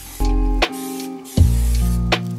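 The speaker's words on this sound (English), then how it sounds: "I'm going to spray some oil onto the dish to grease it" Two short hissing bursts of cooking oil spray onto a baking dish, close and loud, each lasting about half a second, separated by a brief pause.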